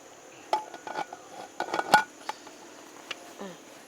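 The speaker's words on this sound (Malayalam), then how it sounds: "ഇനി നമുക്കിത് മൂടി വെക്കാം" A run of metallic clinks and clatters, one sharp ringing clang near the middle, as a lid is set onto a pressure cooker of boiling coconut rice.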